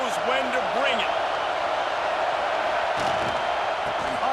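A stadium crowd in the College Football 26 video game roars as a dense, loud, continuous wash of noise, with a few brief voices rising over it.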